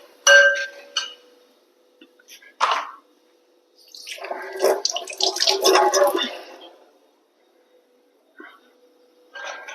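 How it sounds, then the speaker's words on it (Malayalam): A mixer jar is rinsed and its water poured out: a few sharp glassy clinks and taps, then a sloshing, splashing pour for a couple of seconds before more light knocks. "ഇനി നമുക്ക് ഈ ജാറ് കഴുകിയിട്ട് അതിൻ്റെ വെള്ളം കൂടി ഒഴിക്കാം"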